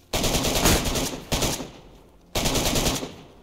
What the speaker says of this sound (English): To the terrorist who is shooting, you better put down the guns!